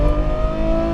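A Ferrari F12 Berlinetta V12 at full throttle on a track, a loud, sustained high-pitched engine wail climbing smoothly through the revs, heard close from on board with no voices.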